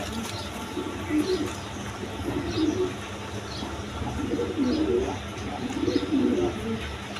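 A breeding pair of pigeons coo in repeated low, throaty phrases close by, over a steady background hum with other birds faintly audible.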